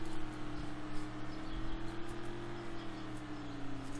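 Car engine in the Roblox game Ultimate Driving, a faint, steady whirring hum that holds a near-constant pitch during a slow handling test, with no talk over it.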